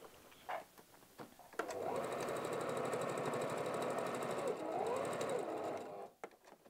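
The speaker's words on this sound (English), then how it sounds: "just run some base stitching again around the same edges" Sewing machine running base stitching around the lining edges of a wallet, a close continuous whirring chatter lasting several seconds, with a few soft clicks and handling noises before and after.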